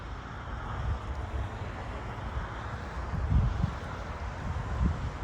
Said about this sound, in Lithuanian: Bet labai šiandien vėjas didelis.